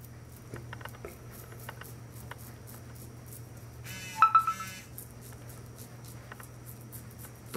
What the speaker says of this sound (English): that's a Reddit notification